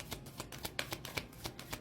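Tarot cards are shuffled by hand in a quick series of soft, rhythmic riffling slaps and flicks, close and fairly quiet, with no speech.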